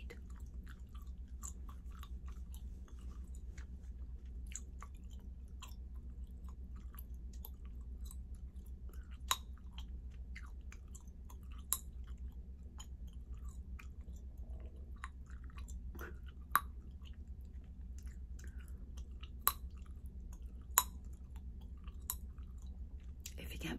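Starbucks gum being chewed and snapped up close in a quiet room, soft wet chewing clicks throughout with a few sharper isolated snaps, no talking.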